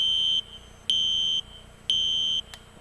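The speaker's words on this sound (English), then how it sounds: "So there goes the alarm." A fire alarm on a custom fire alarm board sounds loud and close, giving three long, steady electronic beeps in an even on-off pattern with short gaps between them.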